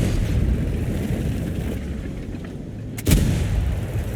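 Tank cannon fire in World of Tanks, a continuous low battlefield rumble with a sharp distant boom striking near the end and rolling off.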